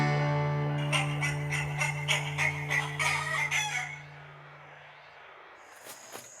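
Chickens clucking in a rhythmic run of short calls, then a rooster crowing faintly near the end, heard over a sustained musical drone that fades out midway.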